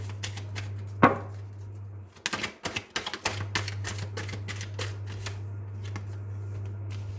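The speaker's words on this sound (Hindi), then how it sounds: "एंड दो कार्ड और निकालेंगे हम।" Tarot cards are shuffled close up in quick riffling bursts and sharp flicks, an irregular run of crisp card snaps over a steady low hum, with no talking.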